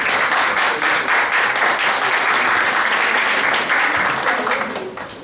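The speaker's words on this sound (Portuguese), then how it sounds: "uma salva de palmas, por favor" Sustained audience applause at an academic panel session on mental health and graduate studies, dense steady clapping from a full room that holds for several seconds before starting to fade near the end.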